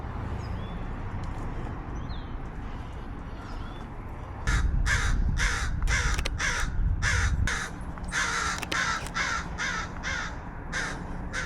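Several crows caw in a loud, irregular burst of harsh calls near an outdoor shopping mall, the calls coming in rapid clusters before thinning to a few scattered caws over steady background traffic hum.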